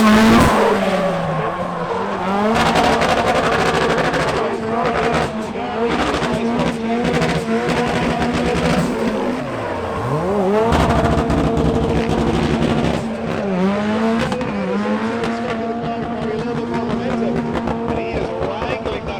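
A drift car with a stock exhaust is driven hard sideways at a drift competition, its engine screaming and rising and falling while tires squeal continuously, loud and close, with an announcer talking over it.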